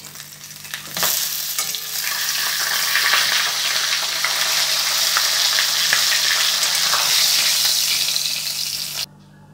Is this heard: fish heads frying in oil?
yes